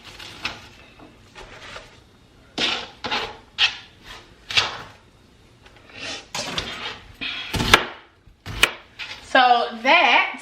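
A knife chops through a whole cabbage on a board in a run of crisp, irregular cuts. Some bursts are quick and clustered, others are separate sharp thunks, all close and clear with quiet gaps between.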